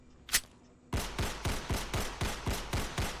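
Submachine gun fire in a top-down zombie extraction shooter game: a brief click, then a steady burst of about nine evenly spaced, loud, punchy shots, with no voices over them.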